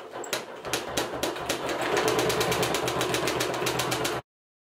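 A sewing machine runs in a fast, even stitching rhythm while quilting a fabric giraffe horn, close and steady, then stops abruptly.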